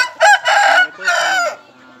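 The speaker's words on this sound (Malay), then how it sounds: "Masukkan ayam ini ke kandang." Chickens and a rooster at a breeding pen, loud and close: a short clucking burst followed by two long drawn-out crows, with no talk over them.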